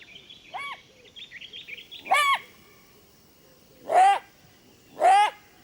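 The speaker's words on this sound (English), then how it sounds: "The jackal's barks mean that large predators are on the prowl." In the Botswana wild on Chief's Island, a jackal lets out three loud, sharp yelping barks spaced about a second or two apart, with fainter calls before them against a quiet night background.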